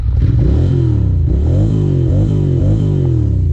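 A 2001 Ducati Monster 600 two-cylinder engine revs hard and close, its deep loud rumble rising and falling in repeated throttle blips with no pause.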